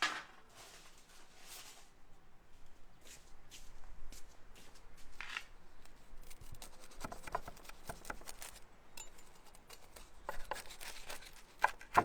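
A knife cuts through a crispy baked feta and spinach pastry spiral, giving close, irregular crackly crunches and flaky rustles, with sharper snaps toward the end and no talking.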